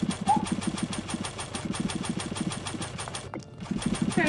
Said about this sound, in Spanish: He oído una motosierra.